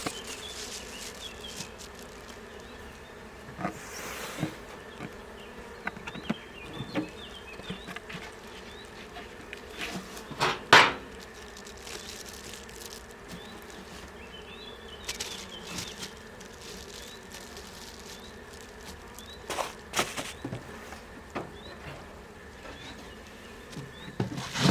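Honey bees buzzing around an open hive during a beekeeper's colony inspection: a soft, steady swarm hum with individual bees passing close now and then, fairly faint, with no talking.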